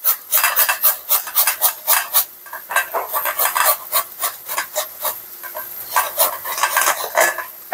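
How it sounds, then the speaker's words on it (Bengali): Fried vegetable bhaji being cut up in a home kitchen, with quick, rhythmic chopping and scraping strokes against the pan, close and fairly loud, continuing steadily with a few short gaps. "ভাজি কেটে নিচ্ছি।"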